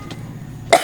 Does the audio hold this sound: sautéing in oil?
no